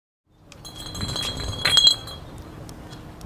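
Glass bottles clinking, bright ringing clinks over a soft rustling bed, with one louder cluster of chimes near the middle and no voices.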